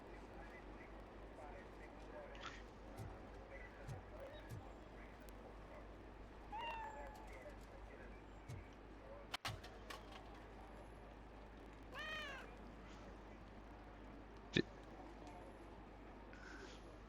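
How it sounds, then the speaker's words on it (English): A cat meows faintly a few times amid a quiet room tone, with short scattered cries and a sharp knock partway through. "I hear Kitty."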